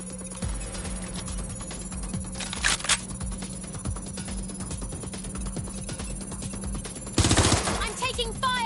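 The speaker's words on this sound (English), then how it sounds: "I'm taking fire!" Gunfire in the Watch Dogs Legion video game: scattered sharp cracks and short bursts ring out against a humming game backdrop, with a heavier volley near the end.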